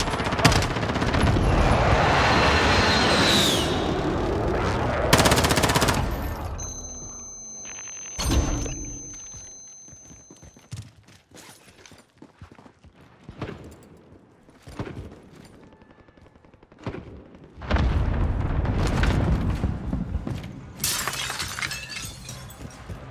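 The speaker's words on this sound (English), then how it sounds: "Be advised, friendly precision airstrike inbound." Precision airstrike in Call of Duty Warzone, a loud opening barrage of blasts and shattering debris, then scattered sharp impacts and bursts of gunfire at varying distances, with another heavy run of explosions near the end.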